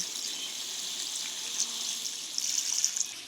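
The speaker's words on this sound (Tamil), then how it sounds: "இப்போ தேவையான தண்ணி ஊற்றிக்குவோம்." Water poured into a cooking pot while preparing a home-cooked dish, a steady close hiss of running liquid with small splashy surges toward the end, no talk.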